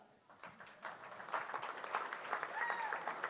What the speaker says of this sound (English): we would encourage you to clap for them too, so no one feels outclapped